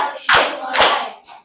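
Hand claps in a classroom ice-breaking game: two loud, close, broad claps followed by a softer third.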